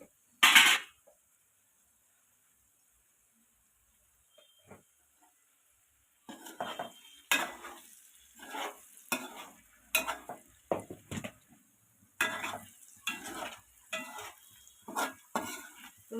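Onions frying in a pan for egg curry, stirred with a utensil: a sharp clank at the start, then a run of scraping, clattering stirs with a soft sizzle underneath, close and moderately loud, no talking.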